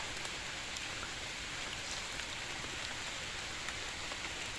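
Steady rain falling in a forest on a rainy day, a dense even hiss of drops with occasional brighter patters on leaves, continuous throughout with no voices.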